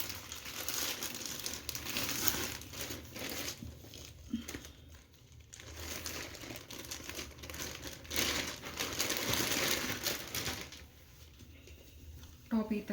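A SHEIN top is pulled from its plastic packaging with bursts of close crinkling and rustling, while someone talks throughout.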